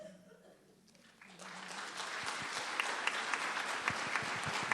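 Audience applause at a testimony gathering, starting after a quiet moment and swelling into sustained clapping from a crowd, fairly close and steady, with a voice briefly heard beneath it.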